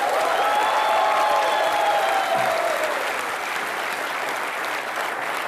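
A studio audience on a TV comedy show applauds loudly and steadily, a full, sustained roar of clapping with a musical tone sliding beneath it at the start.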